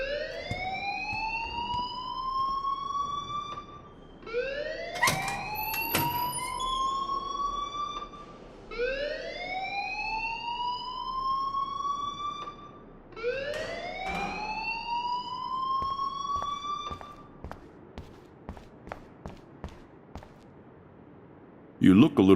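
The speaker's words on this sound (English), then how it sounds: "please turn off that alarm since that's your job" A whooping electronic alarm in the video game Life Is Strange rises in repeated sweeping wails, four long cycles, loud and close, followed by a few sharp clicks near the end.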